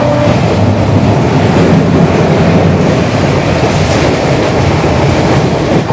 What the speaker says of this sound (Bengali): ট্রেন যেহেতু লেটে প্রবেশ করছে